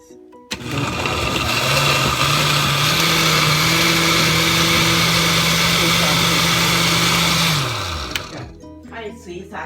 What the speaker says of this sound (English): Now, garlic now we're gonna blend it together, all together.